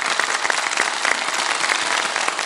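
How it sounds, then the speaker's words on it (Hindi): A studio audience at a televised Ramadan quiz competition breaks into sustained, dense applause, steady and loud for the whole stretch with no voices rising above it. "बहुत सारी तालियां एदी साहब के लिए"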